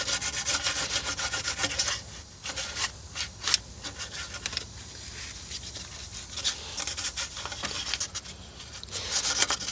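Close, continuous rubbing and scraping of fine sandpaper on the engine block of a Chevrolet Suburban 1500 5.3L, in uneven back-and-forth strokes with brief pauses, no talking.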